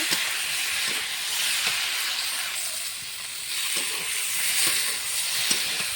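Spices with chilli powder and vegetables fry in hot oil for a rohu fish curry, giving a steady loud sizzle and hiss with faint scattered pops throughout.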